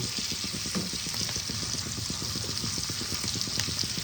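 Capsicum frying in a pan over low heat gives a steady, close sizzle with dense crackling throughout, no voices.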